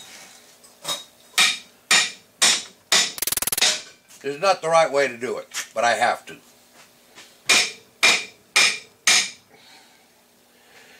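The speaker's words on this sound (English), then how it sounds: "Would you use a bigger hammer?" Sharp metallic hammer strikes ring out in a steady series, close by, driving a bearing into place on an Allis Chalmers rake, with someone talking briefly in the middle between blows.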